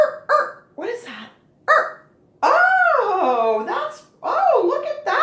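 A puppy whimpers and whines nearby in a string of high, wavering cries, some short and some long and sliding, loud and close with brief pauses between.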